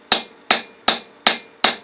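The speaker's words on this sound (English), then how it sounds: "it's struck with a hammer on the back of this" A hammer strikes the back of a scythe blade held in a peening jig. Five sharp, ringing metallic blows land close up at a steady rhythm about 0.4 seconds apart, each decaying quickly, with nothing else heard.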